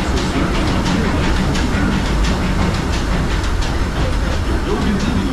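Disneyland Railroad train running along the park's rails near New Orleans Square Station, a loud, continuous rumble with steady rhythmic clicking of wheels over rail joints, heard from on board.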